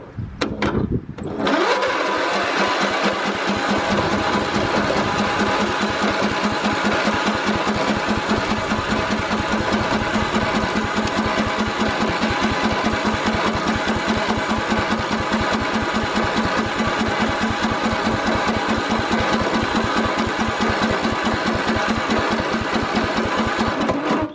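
A small lawn mower engine with a dirty carburetor starts with a sharp pull, then runs loud and steady at a fast rough chug, close by and unbroken for over twenty seconds.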